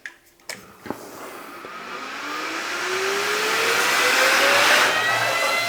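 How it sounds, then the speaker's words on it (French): An ARCTIC S8038-10K high-speed PC fan, an 80 mm unit capable of about 10,000 rpm, clicks on and spins up to full speed, its whine and rushing air climbing steadily into a loud, constant whoosh. "Et notre ventilateur, hop, il s'en va. Voilà, il est désormais à fond. Ça fait beaucoup de bruit."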